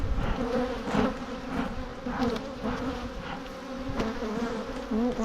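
Honeybees buzz inside an opened, queenless beehive, a close, wavering drone with individual bees swelling louder as they pass near, continuous throughout without talk.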